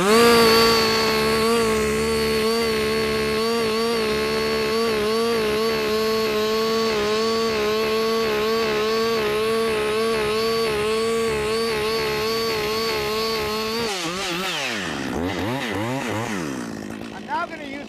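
A chainsaw runs at a steady high rev while boring into a tree for felling, the engine droning loud and close for most of the time before its pitch wavers and drops near the end.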